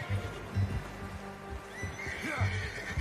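A horse neighs in Red Dead Redemption 2, the whinny rising clearly over soft ambient game sounds with faint hoof clops, while a voice speaks briefly in the background.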